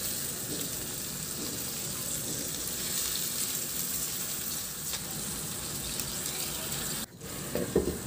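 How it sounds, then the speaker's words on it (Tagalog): Marinade poured over pork kasim in a hot pan sets off a loud, continuous hiss and bubbling sizzle that holds steady, with a short clatter near the end. "Ilagay ko na yung pinagbabara natin sa karni."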